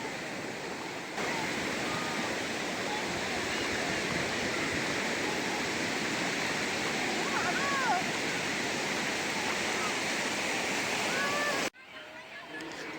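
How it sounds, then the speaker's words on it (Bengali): Sea waves at Digha beach make a steady, broad roar of surf close by, with faint voices in the background. The sound drops away abruptly just before the end. "ভূমিতকে নিয়ে ওর বাবা শেষ পর্যন্ত নেমে গেছে সমুদ্রে স্নান করার জন্য"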